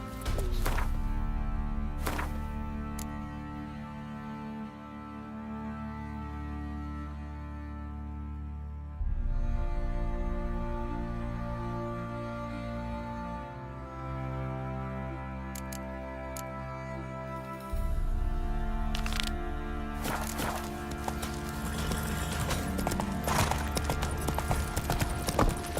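Horse hooves galloping in The Witcher video game, a steady clip-clop rhythm running under a continuous musical score, fairly close and at moderate level throughout.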